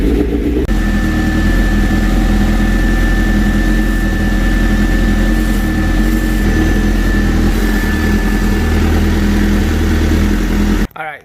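A Suzuki GSX-S1000 motorcycle engine idles during a coolant replacement, warming up until the thermostat opens. It holds a close, steady, low rumbling hum for about ten seconds, then cuts off with a brief clatter at the end.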